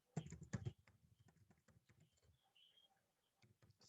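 Keystrokes on a computer keyboard come in a loud, dense burst of clicks at first, then continue as lighter, scattered taps close by, with no talk.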